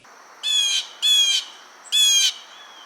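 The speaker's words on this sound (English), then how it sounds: "You might see some blue jays" A blue jay calls in a backyard: three loud, harsh, buzzy squawks in a row, evenly spaced and close, with nothing else heard.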